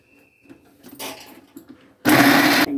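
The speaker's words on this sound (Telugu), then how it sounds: "మిక్సీలో వేసుకొని 1 టైం తిప్పుకుంటే అయిపోతుంది" A mixer grinder whirs in a short burst, then a loud, harsh second burst roars briefly before cutting off.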